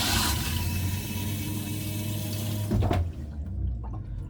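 An RV water pump on a 2003 Safari Trek runs with water flowing through the fixtures, a steady close rush and hum that cuts off near the end, leaving a few faint clicks.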